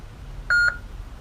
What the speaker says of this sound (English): you press and hold the auxiliary button until you hear a beep